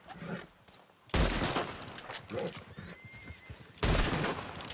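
Horse whinnying in Red Dead Redemption 2 after being shot, set among bursts of gunfire and game noise; loud sharp shots open and close the stretch, with a thin neigh audible in the mix.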